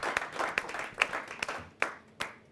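Light audience clapping welcoming a poet at a Hindi comic poetry gathering, a handful of sharp, uneven claps standing out over a soft, sparse patter.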